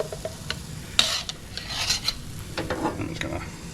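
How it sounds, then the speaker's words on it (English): Banana pancake batter sizzles and crackles in a hot pan in the Sumatran jungle, with scraping and clinking of a utensil over the frying hiss. "Pour your batter in. Hear that sizzle,"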